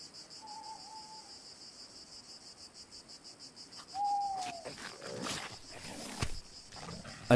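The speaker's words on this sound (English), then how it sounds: "A distant roar sets her on hair-trigger alert." A distant, unseen large animal lets out a brief roar amid a constant chorus of chirping insects, followed by rustling nearby; the setting is a wild island.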